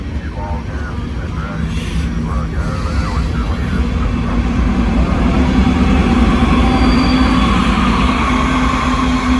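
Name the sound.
loud freight train distributed power unit locomotive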